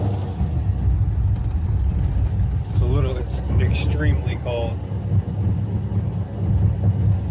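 A tuned car exhaust rumbles steadily as the engine idles after starting in very cold weather. Someone speaks briefly over the low, continuous engine drone.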